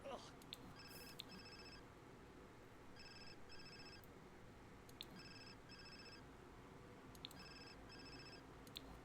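A phone rings repeatedly in The Sims, a synthetic electronic trill in four evenly spaced bursts over soft background game music and ambience.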